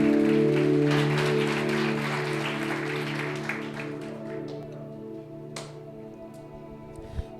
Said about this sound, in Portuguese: aplauda o Senhor, é para Deus